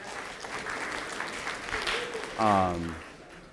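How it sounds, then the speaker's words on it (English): Moderate audience applause at an arts and entertainment industry forum, a crowd clapping steadily while a voice speaks briefly over it. "you should give yourselves a round of applause for a tough week"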